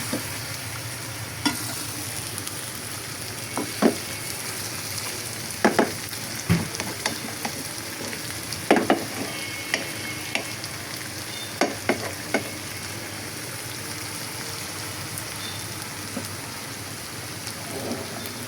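Spices being fried and stirred in a pan as the base for an egg bhuna, with a steady soft sizzle and occasional scraping clicks of a spoon against the pan.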